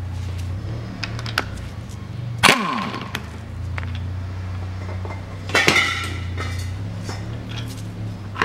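Unscrewing the nut on a Volkswagen Passat B6 rear shock absorber, with close metallic clinks and tool clatter over a steady low mechanical hum, including two sharper knocks.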